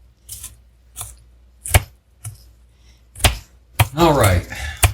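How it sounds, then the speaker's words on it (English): A knife chops onion on a cutting board during tuna salad preparation, with sharp, irregular strikes close by and a brief quick flurry of cuts near the end. "she's still chopping up onion"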